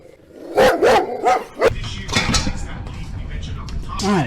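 A dog barks several times in quick succession near the start, then quieter talking and background noise follow.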